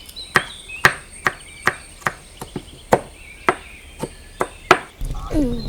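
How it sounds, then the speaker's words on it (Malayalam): A blade chops coconut in a village kitchen in Kerala, landing about a dozen sharp, evenly spaced strokes close by, each a crisp crack with a short ring. A heavier shuffling thud follows at the end. "ഇനി ഞാൻ തേങ്ങ അരിയുവാണേ"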